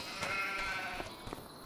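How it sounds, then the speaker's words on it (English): Sheep bleat as the flock moves along, several short overlapping calls close by with farmyard noise behind them. "the sheep are underway"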